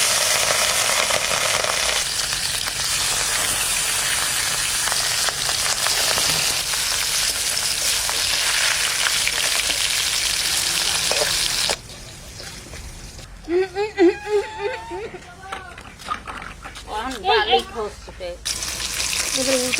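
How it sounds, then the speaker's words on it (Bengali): Salted, turmeric-rubbed rui fish frying lightly in a pan gives a dense, steady sizzle for about twelve seconds. It then drops off, and a person speaks over quieter background. "মাছটা হালকা করে ভাজার জন্য"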